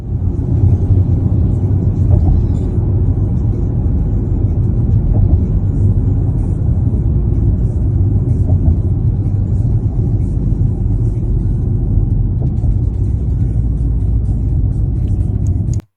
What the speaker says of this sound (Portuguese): só o barulho do carro mesmo